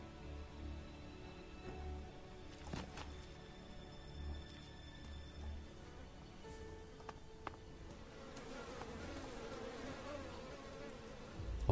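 Flies buzz around a corpse in the video game Elex, a faint, intermittent droning hum with occasional close passes and soft ambient clicks.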